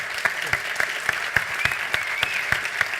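Audience applause at a tech marketing event, steady clapping from a crowd with regular sharper claps standing out, fairly close and loud, no talk over it.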